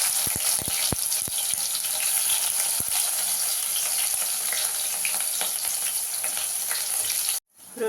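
Onions fry in oil with urad dal, chana dal and cumin, a loud, continuous sizzle close by with stirring clatters early on, ending abruptly near the close.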